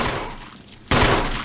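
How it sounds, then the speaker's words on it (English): Gunfire against a wall in Resident Evil, a loud burst of noisy shots, a short fading tail, then another abrupt loud volley. "were firing bullets at the wall"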